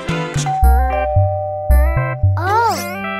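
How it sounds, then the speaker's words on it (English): Cartoon doorbell chiming a bright two-tone ding-dong, sounding several times in a row at close range, with cheerful musical tones and sounds woven around the chimes. "It's a doorbell. Someone's at the door."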